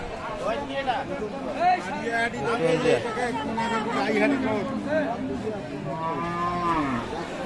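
Friesian cows lowing at a crowded cattle market in Ranigonj, Dinajpur, with several drawn-out moos overlapping one another amid a constant babble of people talking nearby.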